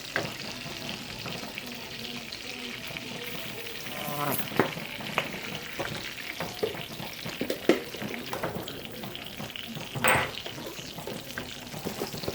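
A honey garlic glaze with soy sauce is stirred in a hot pan, giving a soft steady sizzle with intermittent scraping and clinks of the utensil against the pan. No one speaks.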